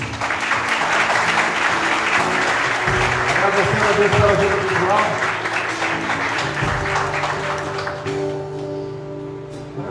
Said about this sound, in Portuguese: Vocês poderiam dar uma salva de palmas?